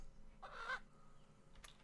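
Chicken clucking in the fantasy video game Era of Majesty, one short scratchy cluck followed by a fainter brief squawk, quiet over a low game ambience.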